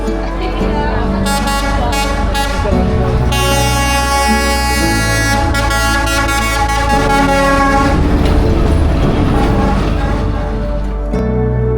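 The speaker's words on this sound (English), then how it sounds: "That is the last train you guys are getting." A train rumbles past close by on Train Street in Hanoi, Vietnam, its horn blaring in long harmonic blasts over the steady roar of the wheels, loud throughout.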